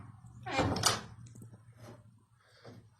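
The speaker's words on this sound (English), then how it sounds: "Close that door." A wooden kitchen door on old wooden hinges swings shut with a single solid thunk, fairly close, followed by a couple of faint knocks as it settles against its latch, with low background hum.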